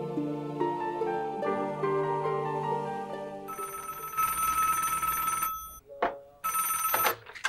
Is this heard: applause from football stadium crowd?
no